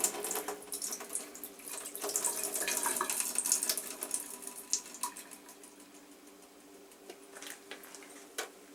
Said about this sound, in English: we need to pour the juice out of the can